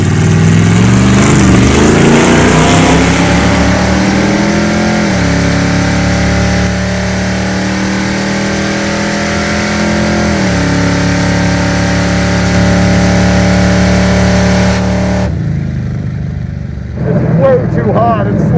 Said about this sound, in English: we just want to get another pass down the quarter mile and see if we can crack 100 miles an hour